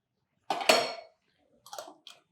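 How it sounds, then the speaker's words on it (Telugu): A metal lid set onto a pot of ragi flour for ragi sangati, one clattering clank followed a moment later by two lighter taps of metal on metal, close and clear. "పోసేసి 1 నిమిషం పాటు మూత పెడదాం"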